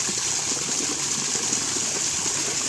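Water pours steadily over a tractor being washed in the field, a constant close gushing rush with light splashing texture and no talk.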